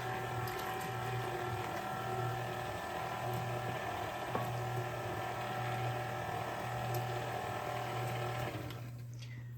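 An electric mixer beats vanilla cake batter after flour and milk are added, producing a continuous close whirring drone with a faint rattling texture that stops abruptly at the very end.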